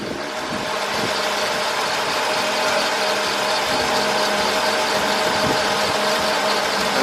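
A high-mileage car engine with about 416,700 km on it idles smoothly and steadily, a continuous even drone with faint irregular ticks, close by and without voices.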